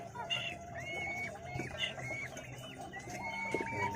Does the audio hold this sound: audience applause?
no